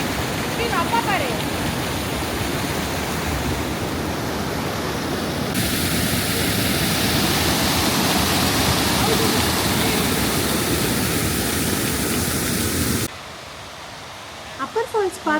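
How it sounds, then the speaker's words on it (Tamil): Aysgarth Falls in the UK, a waterfall giving a loud, steady roar of rushing water close by that stops abruptly near the end, with voices briefly heard. "இதுதாங்க மிடில் ஃபால்ஸ்"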